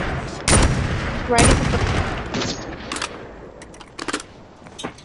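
Bursts of gunfire ring out in the mobile shooter Call of Duty Mobile, several loud rapid volleys followed by scattered shorter shots, with a player speaking briefly in between.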